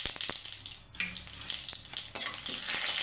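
Mustard seeds, chana dal, urad dal and cumin crackle and sizzle in hot oil for a tempering, a steady close frying hiss with small pops and light spoon stirring throughout.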